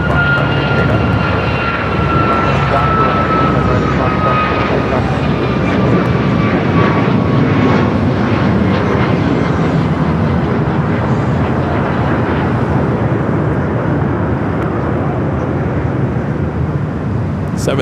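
An American Airlines Boeing 737 MAX 8 takes off from runway 25 Right at LAX, its engines a loud, steady roar with a rising whine that stays strong and then slowly eases.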